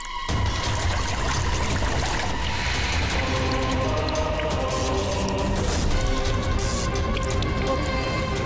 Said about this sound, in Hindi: पानी गिरा